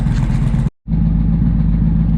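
An Indian Challenger motorcycle engine with a new Toce exhaust idles with a steady low rumble while warming up, briefly cutting to silence before resuming at the same even pace.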